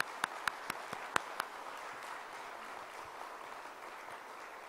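A few sharp, scattered claps at the start in a church service that quickly fade, leaving quiet room noise; faint and distant rather than a full applause.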